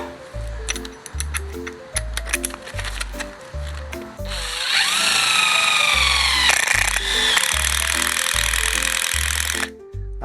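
A dull, worn-out 10 mm drill bit grinding slowly into material under heavy pressure, a sustained strained high whine with rhythmic low thumps throughout, loud and close with no talk.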